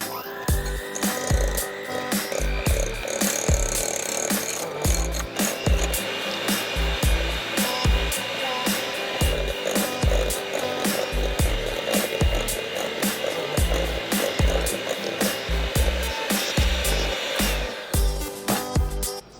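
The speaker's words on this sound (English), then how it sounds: "you can use a KitchenAid or any mixer you want, and we're gonna beat this together for like 5 minutes till it comes really light and creamy" An electric stand mixer such as a KitchenAid beats banana bread batter with a steady, loud, continuous whirring drone and rhythmic rattling throughout.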